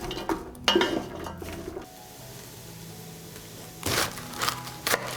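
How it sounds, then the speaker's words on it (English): Vegetables being stirred as they fry in oil in a pot for a vegetable soup, with a run of clinking utensil-on-pot scrapes early on, a quieter stretch, then more stirring clatter near the end. "I add oil. Stir. I will fry until the vegetables are soft."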